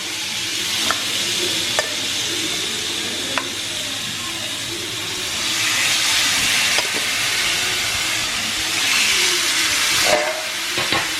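Chicken sizzles steadily on a hot grill over high heat, a loud continuous hiss and crackle with a few sharp clicks and pops.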